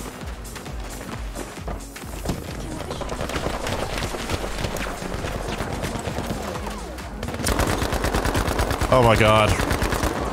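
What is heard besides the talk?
gunfire in video game Battlefield V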